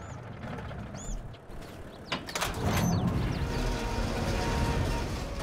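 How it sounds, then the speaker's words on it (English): Shipping container doors swinging open in Farming Simulator 22, with a metallic creak and clank around two seconds followed by a sustained rumbling scrape and steady low machinery noise, fairly loud with no talking. "I love the sound of that container opening."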